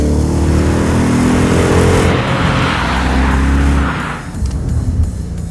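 A 2015 Ford Mustang GT engine roars loudly and revs hard as it accelerates, a deep throaty growl that eases off near the end.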